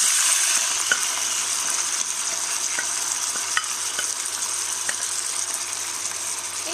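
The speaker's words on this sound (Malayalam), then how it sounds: "ഇതിലേക്ക് നമ്മൾ നേരത്തെ വേവിച്ച് വെച്ചേക്കുന്ന ബീഫ് ഞാൻ ചേർത്ത് കൊടുക്കുകയാണ്." Precooked beef hits a hot pan for a Kerala-style beef fry, giving a steady, fairly loud sizzle with a few faint metallic clicks and scrapes scattered through, and no voices.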